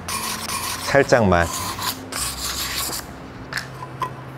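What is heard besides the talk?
sandpaper rubbing ceramic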